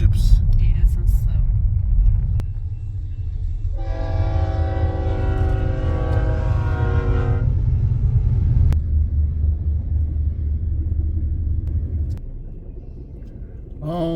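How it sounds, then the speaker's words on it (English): A loud low rumble of a fast train passing nearby, with a sustained horn blast in the middle and brief voices around it. "The fast train just went across the Amtrak."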